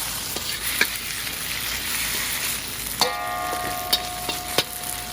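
Drunken noodles (Pad Kee Mao) stir-fried in a wok, with a steady close sizzle and sharp clinks of a spatula scraping and tapping the pan.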